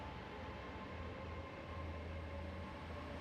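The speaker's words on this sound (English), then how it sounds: "I spent time watching the trains come and go" Trains pass at the Taunton station platform, a low, steady rumble of rolling railcars heard at moderate distance, fairly quiet and continuous, with no talking.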